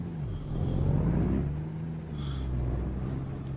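A Kenworth W9 truck engine in American Truck Simulator rumbles low and steady while hauling logs, with a brief hiss partway through and a faint high whine, all fairly quiet.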